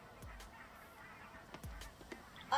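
Barnacle geese at the Caerlaverock wetlands give a few scattered, fairly faint honks over a steady outdoor background, with no one talking.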